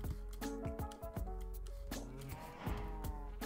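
Cows mooing in the Minecraft video game, several short lowing calls repeated in quick succession over game music and other in-game sounds.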